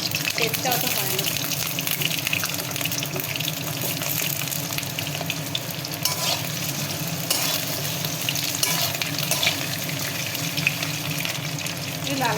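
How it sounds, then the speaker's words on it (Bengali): Pointed gourd pieces frying in hot oil, a dense continuous sizzle and crackle held loud and close throughout, with some stirring and a voice speaking faintly underneath. "তেলটা গরম হয়েই গেছে, আমি পটলগুলোকে দিয়ে দেবো।"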